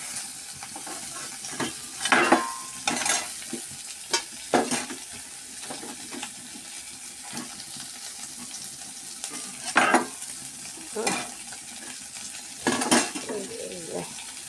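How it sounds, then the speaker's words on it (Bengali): Pieces of fish fry in hot oil with a soft continuous sizzle, broken by sharp clinks of a metal utensil against the pan and occasional louder stirring scrapes, close up with no talking. "মাছগুলো একটু চপিট করে ভেজে নেব।"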